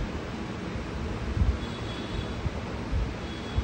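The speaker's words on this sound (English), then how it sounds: "This is the maximum speed of the fan." Xiaomi Mi smart fan running at maximum speed, a steady airy whoosh of broadband wind noise close to the microphone with faint low buffeting thumps, continuous and even throughout.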